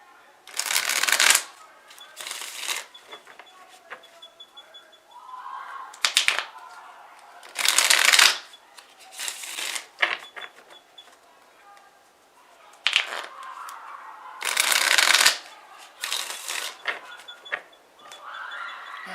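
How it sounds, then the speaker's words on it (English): Several bursts of riffle-shuffling an oracle card deck, each a crisp rapid flutter lasting a second or so, separated by pauses with a voice speaking quietly in between. "So I'm going to shuffle this second deck that you hear."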